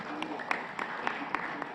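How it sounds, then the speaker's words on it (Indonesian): Audience applause at an Indonesian political party coalition event, a soft continuous wash of clapping with a few sharper individual claps standing out, heard from a distance. "Kita berikan tepuk tangan yang meriah."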